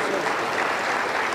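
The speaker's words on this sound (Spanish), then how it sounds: "Aplauso por el Señor." Pentecostal church congregation applauding during a service, a dense, steady wash of many hands clapping together at close range, continuous for the whole short stretch.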